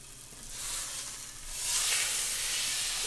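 Stuffed pork loin browning in a hot pan, giving a continuous bright sizzle and hiss that swells louder partway through, close and on its own.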